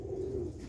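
A slate-coloured pigeon in Sialkot gives a single short, low coo, close and clear against quiet surroundings.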